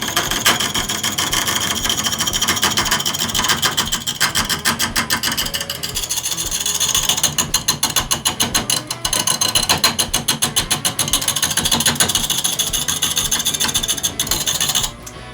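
An axe edge held as a turning tool against spinning wood on a lathe, a steady dense rasping scrape with rapid chattering pulses, loud and continuous throughout.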